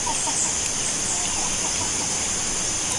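Backyard chickens raised as livestock cluck in short, soft, repeated calls over a steady, hissy outdoor background, with no talking.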